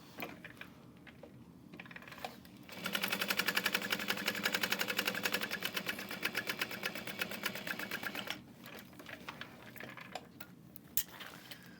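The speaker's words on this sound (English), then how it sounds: "And then we're going to be top stitching that down onto the lining." A sewing machine top-stitches a zipper pocket onto the lining of a bucket bag, starting with a few quiet mechanical clicks. It then runs in a steady, close, rapid stitching burst for about five seconds before slowing to light handling noises.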